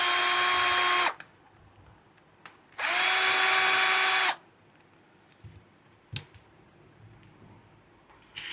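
A power drill unscrews the power supply from a Zebronics amplifier: two loud, steady whirring bursts of about a second each, separated by quiet pauses, followed by small clicks and taps of parts being handled.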